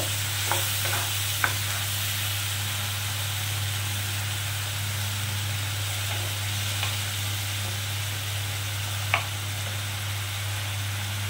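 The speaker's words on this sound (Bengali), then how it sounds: "এবারে আমি এগুলো দিয়ে ভালো করে এটা একটু কষে নেব।" A paste of tomato, ginger and chili sizzles softly in a pan while being stirred, with a steady low hum underneath and a few faint scraping clicks from the spoon.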